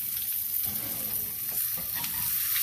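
A ribeye steak fries in a hot pan, giving a steady, dense sizzle that crackles continuously at an even level throughout, close up and with no talking over it.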